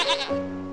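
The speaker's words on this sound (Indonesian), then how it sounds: "suara kambing menyentuh hingga ke gendang telinga" A goat gives a single short bleat, close and fairly loud, with a wavering voiced cry.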